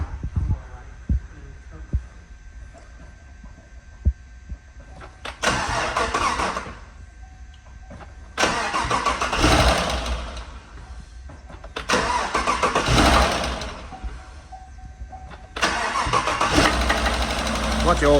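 A swapped 5.3 L83 V8 engine cranks and fires after an oil change and battery reconnection, then settles into a steady idle, with several surging bursts of revving across the clip and no talk over it.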